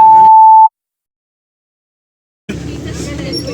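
A steady high-pitched censor beep sounds for under a second, cutting off speech, then silence before a noisy backdrop resumes.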